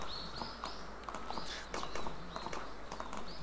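Horse hooves clip-clopping in the Deeeer Simulator video game, a quick uneven series of thuds with chirping birds in the background.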